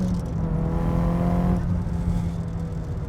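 A turbocharged SR20 engine in a modified Nissan Silvia S15 pulls hard under acceleration, a loud rising drone heard from inside the car with no talk.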